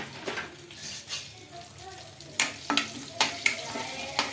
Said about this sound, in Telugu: ఆయిల్ కూడా హీట్ అయింది. కొద్దిగా పోపు దినుసులు ఇంకా అన్నీ వేస్తున్నాను.